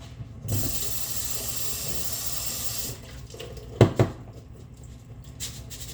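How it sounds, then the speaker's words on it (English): Rice being rinsed in a strainer under a running kitchen tap, a steady hiss of flowing water for a few seconds, then the tap cuts off followed by a couple of clinks and rattles of the strainer, close and moderately quiet. "put it in a strainer and wash your rice"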